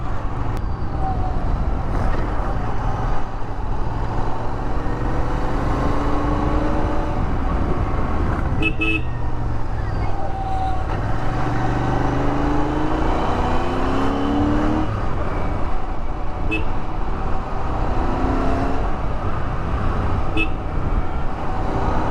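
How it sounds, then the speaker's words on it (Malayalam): A Royal Enfield GT 650 motorcycle's steady engine drone with wind and road rumble throughout, shifting pitch now and then as it cruises along, with a few brief horn-like toots. "ഈ ഒരു വണ്ടി ഇങ്ങനെ ക്രൂസ് ചെയ്ത് പോകുന്നതാണെങ്കിൽ ഇരുന്ന് കാണാം"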